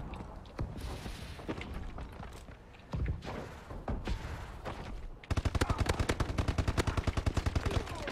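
Gunfire from a suppressed ASM1 in a shooter video game, scattered shots and bursts early, then a sustained rapid automatic burst near the end, moderately loud with no talk.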